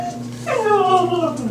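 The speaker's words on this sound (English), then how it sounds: "and the dog wants outside." A dog whimpers to be let outside, a single close, high, wavering whine lasting about a second over a faint background hum.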